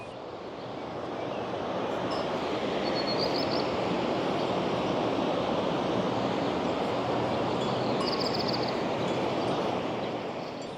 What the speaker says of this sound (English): Johann Wolfgang von Goethe stood right here watching the mist of the waterfalls